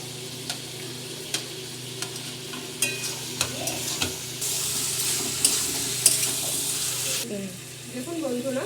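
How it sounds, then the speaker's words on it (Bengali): A spoon stirs lightly fried jackfruit into spices in a pan, with regular scraping taps over a soft sizzle and a burst of hissing in the middle, under quiet room noise. "এবার এটাকে নেড়ে দেবো।"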